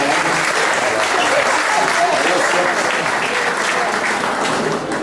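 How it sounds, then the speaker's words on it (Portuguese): Round of applause from guests at a reunion gathering of former bank employees, dense and steady clapping throughout, close and loud, easing slightly at the very end. "uma salva de palmas"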